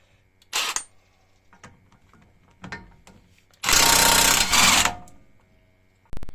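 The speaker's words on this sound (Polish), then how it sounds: "Zobaczymy, czy sobie ta wkrętarka poradzi mimo tego." A cordless power screwdriver loosens a rear brake caliper bolt on a Peugeot 3008/5008: a short whir, then a loud sustained buzzing burst of about a second, with scattered clanks and a final brief whine.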